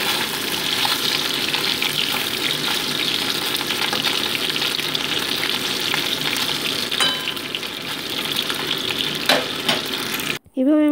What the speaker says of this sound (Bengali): মাছগুলো একটু উল্টে পাল্টে ভেজে নিচ্ছি।